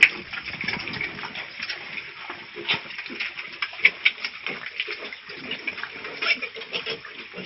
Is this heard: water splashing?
yes